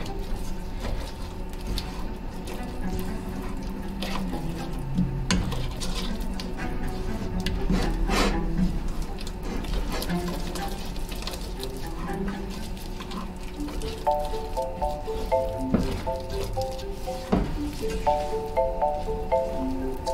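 A spoon stirs and scrapes through thickening homemade play-doh in a pot, making steady rubbing and scraping at close range, with a few sharper knocks against the pot.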